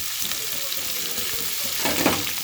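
Ivy gourd tossed with chili powder, turmeric and fennel seeds frying in a pan, giving a steady close sizzle with scraping stir strokes and a louder burst near the end.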